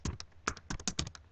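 Keys on a computer keyboard tapped in quick, uneven bursts while a username is entered, about a dozen crisp close clicks with short pauses between them.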